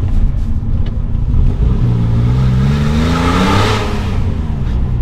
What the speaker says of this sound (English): It is a loud car. It's got a full exhaust.